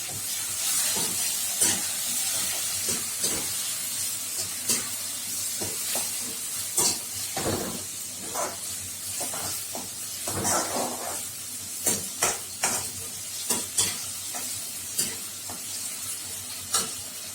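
One large chopped tomato sizzles in a pan for urundai kuzhambu, a steady close frying hiss running throughout, broken by irregular scraping and clacking as it is stirred, with no voices.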